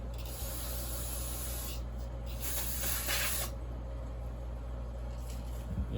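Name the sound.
spraying brake cleaner aerosol on a chainsaw bar tip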